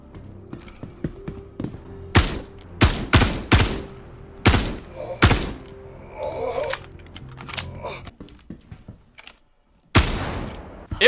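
Star Citizen video game gunfire in several loud, sharp bursts and single shots, irregularly spaced, with quieter mechanical clatter between them and one final burst near the end.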